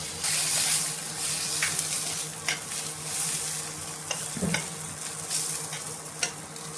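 Eggplant slices fry in hot oil in a home kitchen pan, giving a steady, close hiss and crackle of sizzling that runs throughout, with occasional scrapes and taps of a utensil stirring.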